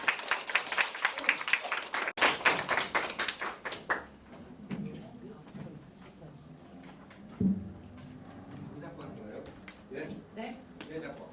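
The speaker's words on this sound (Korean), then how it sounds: "큰 박수로 모시겠습니다" An audience claps loudly in welcome for a speaker at a talk, a dense burst of applause in the first four seconds that quickly fades into scattered room noise and murmuring.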